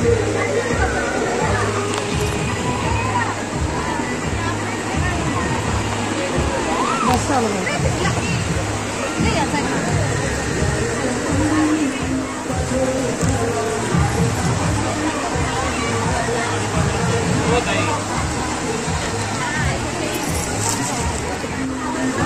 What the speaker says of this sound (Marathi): वाटच लावली पावसाने